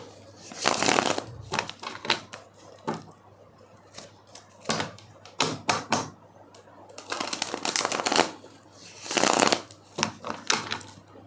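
A deck of tarot cards is shuffled close up, giving repeated riffling bursts of papery flutter separated by short pauses, loud and alone without talk.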